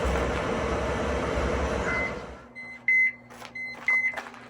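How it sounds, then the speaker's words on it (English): Bluetooth meat thermometer alarm on a smoker holding a Thanksgiving turkey at 165 degrees, heard as a few short, clear electronic beeps with gaps between them, after a stretch of broad rumbling noise that then stops. "Turn these alarms off."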